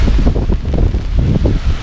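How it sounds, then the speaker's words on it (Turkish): Strong wind buffets the microphone outdoors in Kreuzberg, Berlin, with loud, gusty low rumbling that pulses continuously throughout, with no voices. "Rüzgar var, rüzgardan ses nasıl bilmiyor."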